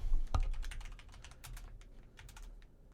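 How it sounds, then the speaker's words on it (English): Typing on a computer keyboard: a quick run of light, close clicks and taps, with one sharper thump at the start, then lighter keystrokes that fade out. "Just type in Glitter X interview."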